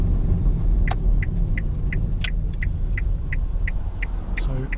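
A 2011 Nissan Leaf electric car pulling over, a low steady road rumble with a regular ticking indicator clicking throughout, quiet and without engine noise.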